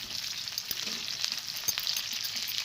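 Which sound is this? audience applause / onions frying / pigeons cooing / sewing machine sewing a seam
onions frying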